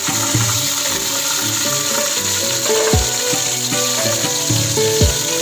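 Chopped tomatoes hitting hot frying onions in a pan, giving a steady loud sizzle close by, with a few clicks and scrapes of utensils throughout and no talking.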